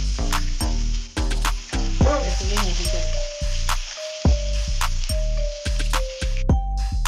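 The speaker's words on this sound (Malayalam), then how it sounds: "നമ്മളുടെ കടുക് ഒരു ഭാഗത്ത് പൊട്ടിക്കൊണ്ടിരിക്കുന്നുണ്ട് അതിലേക്ക് നമുക്ക് കുറച്ച് വെളുത്തുള്ളി ഇട്ട് കൊടുക്കാം" Mustard seeds splutter loudly in hot oil as garlic is dropped in for a raw mango kichadi, giving a close, dense sizzle with sharp pops and crackles over a steady rhythmic background beat.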